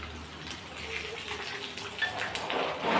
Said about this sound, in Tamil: இப்போ இது எல்லாமே நல்லா பொரிஞ்சு வரட்டும்.